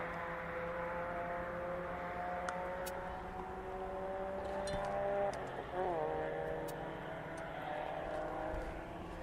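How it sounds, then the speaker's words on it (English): Engines hum with shifting tones as cars pass nearby a runway viewpoint at East Midlands Airport, one whooshing by more prominently partway through, over a low background rumble. "that's why you can hear a few cars going by"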